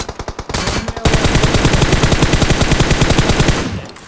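Rapid automatic gunfire from a battle royale shooter during a tournament match, sustained bursts of rattling shots filling the clip loudly, starting sparse then turning into a dense continuous volley before cutting off.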